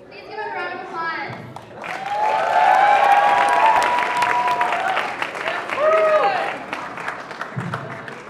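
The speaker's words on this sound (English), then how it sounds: "Please give him a round of applause." An audience applauds at the Urban Expressions 2017 event, a steady crowd clapping that swells in the middle. Voices, cheering and tonal sounds are mixed in, and it eases off toward the end.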